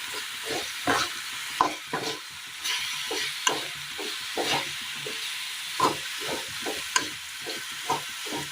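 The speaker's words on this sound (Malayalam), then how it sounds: "ഈ സമയം നമുക്ക് ഇതിലേക്ക് ഈ വറുത്ത് വെച്ചിരിക്കുന്ന അവിൽ കൂടി ചേർത്ത് കൊടുക്കാം." Roasted flattened rice is stirred into bubbling jaggery syrup in a pan, a steady sizzling hiss broken by regular scraping strokes of the spoon, close and continuous with no talking.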